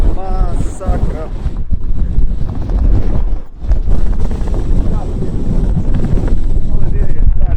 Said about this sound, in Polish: Ale wieje, stary.